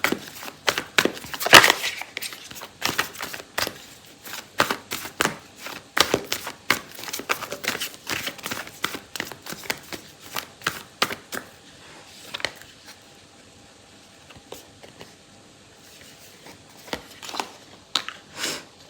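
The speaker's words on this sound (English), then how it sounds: "So I'm gonna pull out an oracle card for you" Oracle cards being shuffled and pulled during a tarot reading, a long run of quick crisp riffling snaps and flicks, near and fairly loud at first, then sparser and softer, with no speech.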